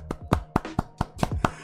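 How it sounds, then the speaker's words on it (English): Seven sharp hand claps at a steady, slightly uneven pace, close and fairly loud, with no talking. "I gotta give you a clap."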